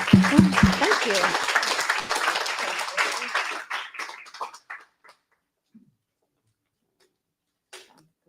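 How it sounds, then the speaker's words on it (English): A crowd at a Python programming meetup claps heartily, and the applause thins to scattered individual claps and dies out by about five seconds, leaving near silence. "if we can please give a massive round of applause to Dave then, please"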